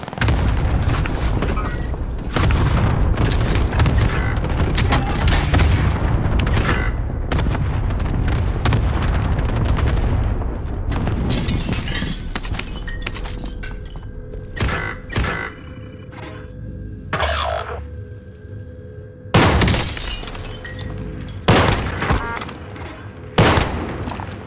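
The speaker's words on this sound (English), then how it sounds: "Cluster strike is active." Cluster airstrike in Call of Duty: Modern Warfare on the Big City map, a rapid barrage of loud, close booming explosions rolling over several seconds, then scattered heavy blasts and rumbling aftershocks with gaps between them.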